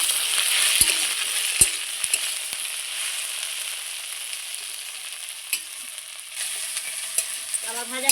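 Sliced okra fries in oil in a pan, a steady close sizzle broken by occasional sharp taps and scrapes of the stirring utensil, and no talk.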